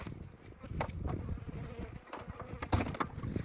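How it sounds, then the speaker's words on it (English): Honey bees buzz steadily around a horizontal hive, many insects drifting in and out close by in a continuous hum with no voices. "We've got a lot of bees coming in and out of it, so we should have some bees in there."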